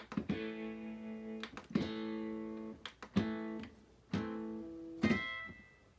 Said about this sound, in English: Sounds like a steel guitar.